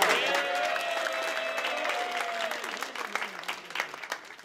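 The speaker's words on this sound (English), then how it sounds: "give it a big hand of applause for yourself" An audience applauds itself at a squash event, scattered clapping building to a fuller patter, with a voice and some tonal sounds over the start.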